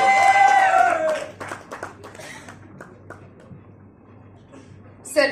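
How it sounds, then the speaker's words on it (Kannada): An audience at a choreographers' cricket league jersey and trophy launch claps loudly. The applause fades under a voice, and brief claps return at the end. "ಜೋರ ಚಪ್ಪಾಳೆ ಬರಲಿ"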